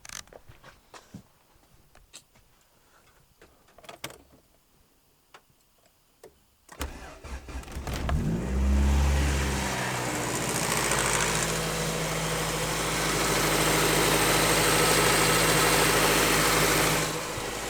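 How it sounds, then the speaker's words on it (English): A Honda Integra engine cranks and catches after several seconds of quiet handling noises, then settles into a steady, loud, close idle that holds to the end with no talking. "Let me go start the car quick."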